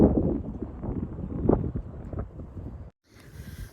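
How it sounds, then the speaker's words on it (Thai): Strong wind gusts across a snowy backyard, producing heavy, uneven low rumbling buffeting against the microphone that drops out abruptly near the end before a softer gust returns. "ลมแรงขออภัยนะคะ"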